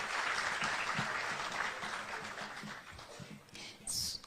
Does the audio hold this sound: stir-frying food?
no